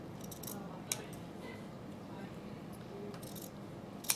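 Scissors snipping through craft material for a tissue box or wet wipe cover, a few faint, sharp close cuts spaced apart against a quiet room hush.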